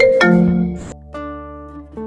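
Electronic phone ringtone in an animated school cartoon, a bright melodic electronic tone that sounds, pauses and starts again, loud and alone.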